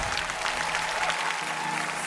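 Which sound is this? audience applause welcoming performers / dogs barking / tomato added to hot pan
audience applause welcoming performers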